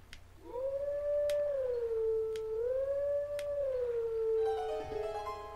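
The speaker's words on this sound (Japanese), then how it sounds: "まさか犬の遠吠えが楽器になるとはね。" A dog's long, drawn-out howl used as a musical instrument in Zelda Twilight Princess HD, one sustained wavering tone that rises and dips over several seconds, loud and clear with faint sharp ticks behind it.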